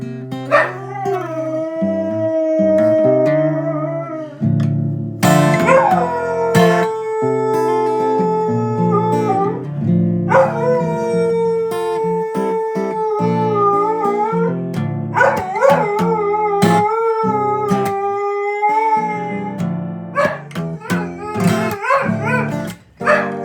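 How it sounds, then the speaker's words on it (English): A small dog howls in a long, sustained series of rising and falling wails, loud and close, with brief yips between the tonal cries and no talking. "It's a lot of singing for a little dog."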